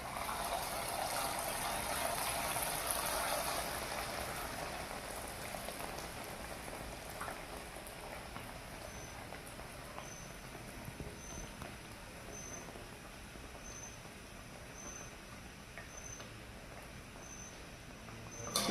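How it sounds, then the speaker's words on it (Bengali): Naan dough dropped into hot oil and frying in a pan, a steady dense sizzle and crackle that starts loud and eases slightly as it continues, close and without talk. "এবারে তেলে দিয়ে দেব"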